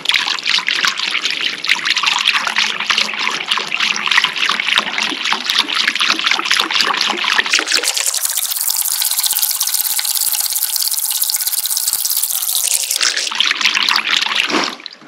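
Liquid pours and sloshes inside a rusty 1982 Honda CB750F SuperSport gas tank, a steady close trickling wash that swells brighter and fuller midway before easing back.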